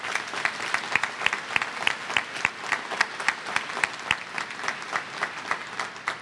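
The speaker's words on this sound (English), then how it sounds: "Let us now applaud these graduates." An audience at a 2012 Terra State Community College commencement claps steadily for the graduates. The applause is a dense, even patter of many hands, with sharp individual claps standing out throughout.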